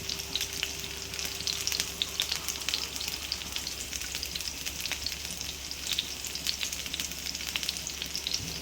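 Onions fry in a pan for a spicy prawn masala, giving a steady, dense sizzle with crackling pops throughout, close and continuous with no talking.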